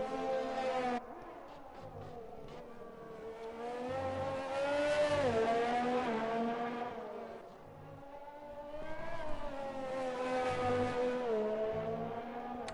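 A Formula 1 race car in a racing video game takes a corner at the Hungary circuit. The engine whines loudly and continuously, dips as the car brakes, then revs back up as it accelerates out.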